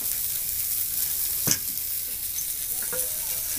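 Semolina cooking in a pan, a dense continuous sizzle with faint stirring scrapes, including one sharp clink midway, close and steady with no talk.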